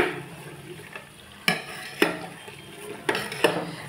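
A spoon scrapes and knocks around a pot of homemade white buffalo ghee simmering on the heat, with several sharp metallic clacks over a soft sizzle, close and without talk.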